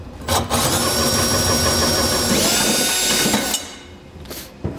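A saw blade cuts a 4-inch hole while a fifth-wheel trailer hitch underbed kit is installed, with plywood used as a guide. A loud, steady power-tool whine runs for a few seconds close by, then cuts off.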